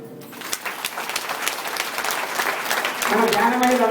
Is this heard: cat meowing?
no